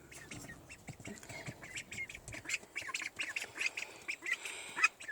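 Baby ducks quack and peep in a busy, continuous chorus of short, fairly close calls that grow denser and louder toward the end, with no talking.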